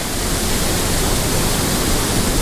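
A waterfall pours into a wild gorge, its roar a loud, steady, unbroken wash of rushing water that fills the whole space.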